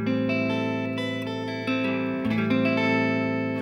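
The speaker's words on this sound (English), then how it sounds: "Right now I'm on the neck pickup." Sustained chords on a Mexican-made Fender Stratocaster electric guitar's neck pickup ring with a warm, smooth tone and lingering reverb, played alone with a chord change partway through.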